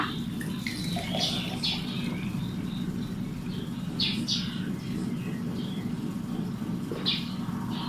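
Liquid drains and splashes steadily as it is strained out of a fermented fruit peel mixture, a continuous watery pour, with birds chirping faintly in the background.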